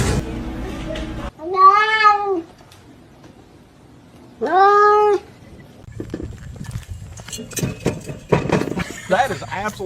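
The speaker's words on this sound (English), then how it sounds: "Silly kitty." A house cat gives two drawn-out meows a few seconds apart, close and clear. Scuffling and clattering noises follow.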